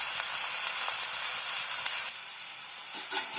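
Bottle gourd dropped into a hot pan with crushed garlic, frying with a loud, steady, close sizzle that eases slightly partway through, with faint stirring clinks and no talk.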